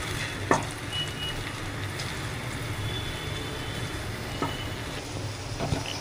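Okra pieces fry in hot oil in a pan with a steady, even sizzle and bubbling throughout, plus a few soft clinks of a utensil.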